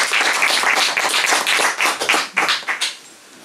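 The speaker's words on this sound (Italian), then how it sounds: "Ma io posso proporre un applauso?" An audience at an Italian book presentation claps, a dense round of applause that holds steady and then thins into scattered, uneven claps before fading out.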